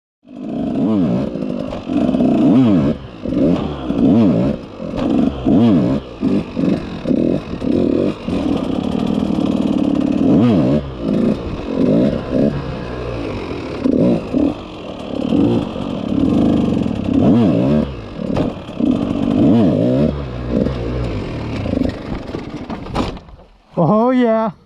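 A dirt bike engine revs and wavers as the rider holds a circle wheelie on an enduro bike, the pitch rising and falling in repeated surges, with a person talking over much of it.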